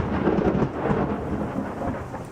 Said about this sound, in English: Hopefully the thunder doesn't get too loud today